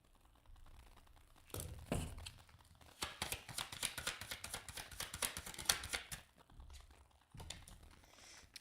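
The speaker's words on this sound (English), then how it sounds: "I'm going to just leave it up as I am shuffling. If it gets too loud," Playing cards being shuffled close by, a run of quick crisp riffling bursts with short pauses between, fairly soft and heard alone.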